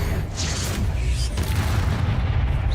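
Bombarda explosion spell cast in the video game Hogwarts Legacy during a troll fight, a low booming blast rumbling under dense game noise.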